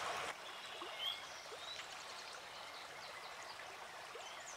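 The Anikode river near Puthur, Palakkad, Kerala flows with a soft, steady rushing and trickling, faint and continuous, with occasional bird calls and no speech.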